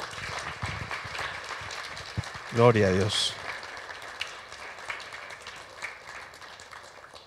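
A Spanish-speaking church congregation claps during a worship service. The applause is moderate and under the voices of people speaking, with a brief louder spoken burst near the middle.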